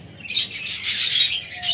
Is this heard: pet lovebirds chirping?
yes